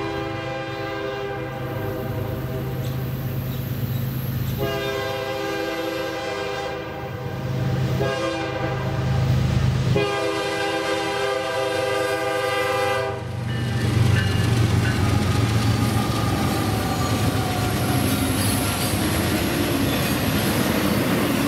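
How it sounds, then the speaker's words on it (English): A BNSF freight train passes a road crossing at Bentonville, sounding loud, sustained horn blasts in several long bursts over a heavy rumble of rolling cars and wheels, close and powerful throughout. "catching BNSF at the Bentonville crossing"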